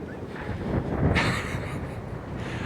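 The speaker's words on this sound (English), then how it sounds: "The Sennheiser does really well in wind, as you can tell right now. It's pretty windy out here." Strong outdoor wind buffets a Sennheiser MKE400 camera microphone and gives a loud, continuous rumble. A brighter gust swells near the middle, and no one talks.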